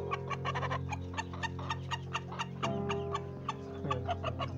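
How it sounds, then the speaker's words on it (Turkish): Sultan chickens cluck close by in short repeated bursts over a steady low background hum, with a few sharper calls scattered through. "yakından çekiyoruz şimdi sultan tavuklarımız önce"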